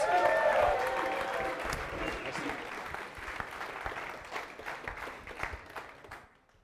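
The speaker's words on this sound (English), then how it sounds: "Round of applause." An evening audience at a climbing event gives dense applause, loud at first and then thinning into scattered claps before fading out.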